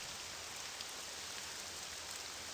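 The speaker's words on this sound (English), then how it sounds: "I take the game audio, which is Rain right now" Steady rain ambience from the video game Morrowind, a continuous dense hiss of falling rain with no distinct drops standing out, even and unbroken throughout.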